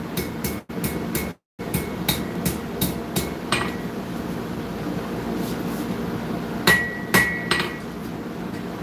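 Metal is forged with a hammer on an anvil in a workshop. Repeated sharp ringing blows land near and fairly loud in uneven bursts, with a brief clinking tone toward the end.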